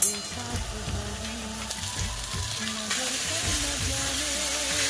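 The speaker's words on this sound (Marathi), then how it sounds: "पोह्यांना छान तिथे परतून घ्यायचं" Poha with onion, green chilies, salt and turmeric sautéed in a pan, a steady sizzle running throughout with soft scrapes and stirring knocks, close and moderately loud, no voices.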